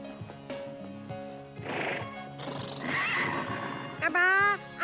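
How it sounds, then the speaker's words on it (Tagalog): Large, powerful racehorses at a racehorse stable neigh and whinny loudly and close by, with hoof clops in between and a long shrill whinny near the end; talk and music run underneath. "ang dami palang malalaki at malalakas na kabayo rito"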